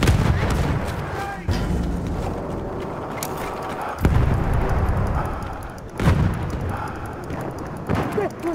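Grenade blasts and battlefield gunfire in Battlefield 1 on the Sinai Desert map, with several sharp booms punctuating a dense, continuous rumble of combat; a voice speaks briefly amid the noise.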